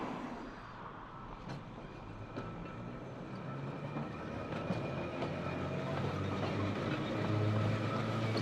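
A Manx Electric Railway tram on the Isle of Man's east coast runs along its rails with a steady rumble and faint clicking, growing gradually louder as it nears, with no voices.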